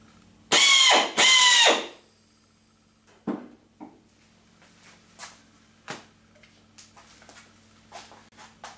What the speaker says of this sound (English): we'll put the drill at 6 feet and run it again.